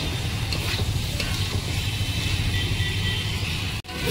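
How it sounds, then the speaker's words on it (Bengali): Tomato sautéing in a pan for a rui fish curry, a continuous dense sizzle with low rumbling underneath, ending in a brief sharp knock, no voices. "টমেটোটা দেওয়ার পরে আরও 1 মিনিট কষিয়ে নেব।"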